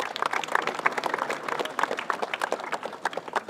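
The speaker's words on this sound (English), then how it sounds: "clap for that as well" A crowd at a schools rugby cup final claps and applauds steadily, a dense patter of many hands at moderate distance, with no talking over it.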